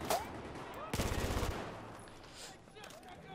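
Gunfire in the video game Battlefield 4: a sharp shot opens, then a dense burst of rapid automatic fire rings out before fading into a low, rumbling background.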